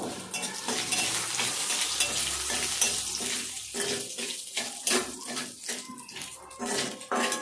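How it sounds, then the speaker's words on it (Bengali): Cumin seeds sizzle and crackle in hot oil alongside bay leaves, a steady close frying hiss broken by stirring and scraping sounds. "জিরেটা দিয়ে দিচ্ছি, দিয়ে জিরেটা একটু লাল লাল করবো"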